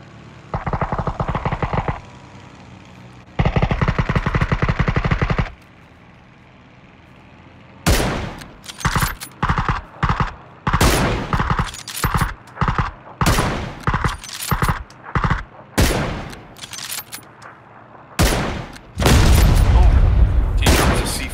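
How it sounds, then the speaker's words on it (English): A flying vehicle in a battle-royale video game fires down with loud, rapid bursts of gunfire, punctuated by booms over a steady rotor-like engine drone, with a player talking between shots. "I'm getting shot at."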